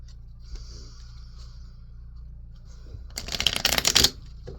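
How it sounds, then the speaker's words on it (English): Tarot cards are shuffled in a short, close riffle, a brief crisp flutter of card edges that follows near silence with a low background hum. "let's draw something from the tarot here"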